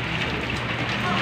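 Rain falling steadily in a pigeon-racing loft area, a continuous close hiss of drops with no breaks over the whole short stretch.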